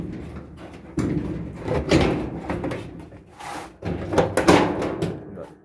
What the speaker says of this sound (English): Take this door off.